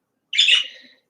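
A single short, bright bird call, a squawk-like chirp lasting about half a second, loud and close, alone against silence.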